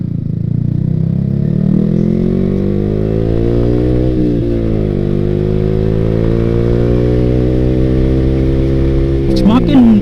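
A Yamaha R15 V3 motorcycle fitted with a short Ronin Hanzo exhaust revs loudly up close, its engine tone rising and falling in repeated swells, with someone speaking over the sound.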